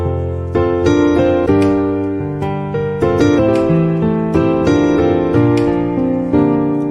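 A piano plays an intro in full chords, with repeated struck harmonies that ring and sustain, heard up close and alone.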